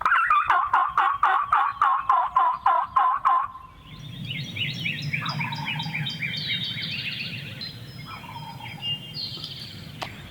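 In the field, a wild turkey's rapid pulsing gobble-like call repeats loudly for several seconds. Then softer, varied chirps and other bird calls follow over a low background rumble, with no talk.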